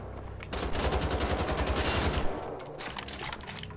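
Rapid automatic gunfire in the shooter game Wolfenstein: The Old Blood, a dense, loud burst of shots for about two seconds, then a few trailing bursts and echoes.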